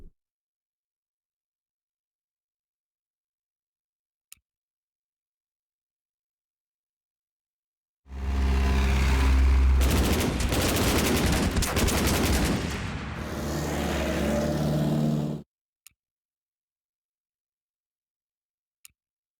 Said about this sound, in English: Then our tank can attack the infantry.